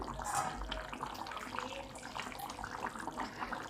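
Gongura chicken curry bubbling and simmering in a pot, a steady close wash of boiling, watery sound throughout with no talk.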